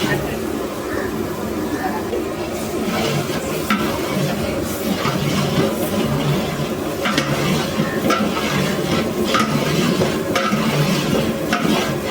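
Marinated chicken tipped into frying masala in a pot for biryani and stirred, giving a steady dense sizzle with scraping stir strokes throughout, under a talking voice.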